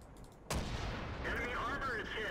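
A tank cannon in World of Tanks fires once with a sudden heavy boom, followed by rumbling and a rising engine whine. Someone speaks over the sound.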